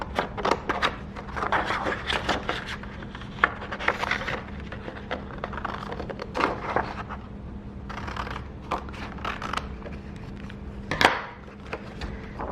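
Scissors snipping through paper for a stamp book in a paper sloyd lesson, a quiet run of close, irregular crisp cuts and rustles with brief pauses between, no talking.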